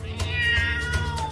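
Several meows from a cat, drawn-out and fairly close, following one another in steady succession with a low background hum underneath.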